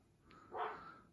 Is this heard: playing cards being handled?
no